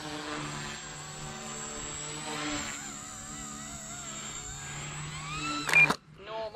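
An RC helicopter flies in stunt mode with a sustained high rotor and motor whine that rises and falls in pitch as it maneuvers, ending in a sharp louder burst. Someone talks briefly.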